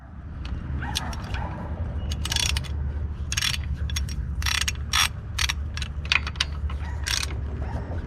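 A ratchet wrench loosens bolts on a pivot during a vehicle clutch linkage teardown, giving rapid clicking bursts in short irregular runs over a low, steady background rumble.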